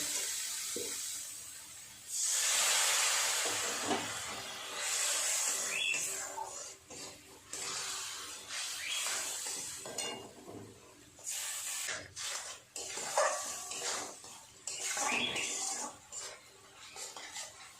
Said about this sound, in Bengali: অল্প একটু জল দিয়ে মশলাটাকে ভালো করে কষিয়ে নেব।